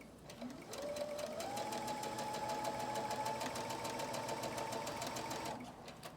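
A sewing machine stitches a 5/8-inch seam at steady speed close up, its rapid rhythmic chatter and motor whine running for about five seconds before it stops.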